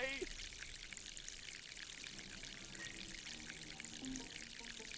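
In Ghost Master, a continuous hissing stream of water pours from the walls, fairly soft but unbroken, with faint voices murmuring underneath.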